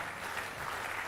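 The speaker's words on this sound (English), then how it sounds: "If you are clapping, clap now" Audience clapping at a university celebration week, a soft, distant patter of many hands held at an even level for a brief moment.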